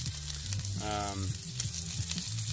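Tuna sears in a smoking hot pan inside a campervan, giving a constant loud sizzle under a low tonal hum, with a voice briefly speaking in the middle.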